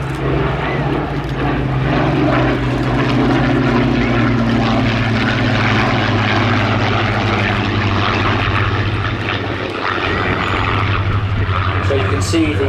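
Supermarine Spitfire Mark V of the Battle of Britain Memorial Flight, wearing D-Day invasion markings, passes overhead at an air festival with a loud, steady propeller-engine drone throughout, while a commentator talks over it.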